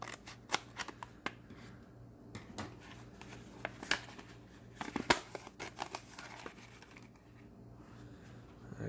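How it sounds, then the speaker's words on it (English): Scissors cut open a plastic accessory packet holding a USB charger for an Adventure Force Rock Runner RC 4x4 rock crawler truck, giving repeated sharp snips and crinkles close by, with no talk. "Let's cut that open and see what's included."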